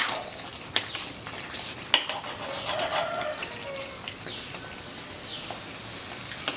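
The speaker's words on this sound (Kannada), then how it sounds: "ಚೆಂದ ಮಿಕ್ಸ್ ಮಾಡ್ಕೋಬೇಕು." Chicken mumtaz curry frying in a pan crackles and sizzles close up, with scraping strokes of a spoon stirring through it.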